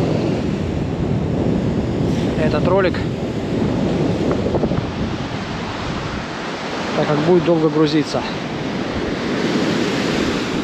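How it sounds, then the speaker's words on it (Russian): Sea waves and surf in a light storm at Lazarevskoye on the Black Sea coast, a continuous rough wash with wind buffeting the microphone, while someone speaks over it. "Легкий шторм опять на море."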